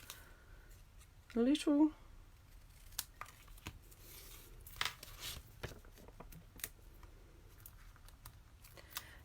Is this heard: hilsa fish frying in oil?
no